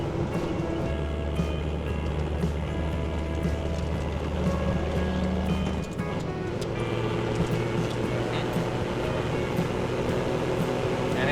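A straight-piped TD42 diesel engine drives steadily while towing, giving a loud, continuous low drone and rumble with road noise, a brief dip midway, and no voices.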